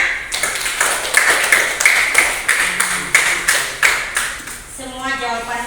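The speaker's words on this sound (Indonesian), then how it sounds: "Kita kasih tepuk tangan untuk semua kelompok ya." A class in a Buddhist lesson claps together for the student groups, producing steady, rhythmic claps that fill the room for several seconds before a voice speaks at the end.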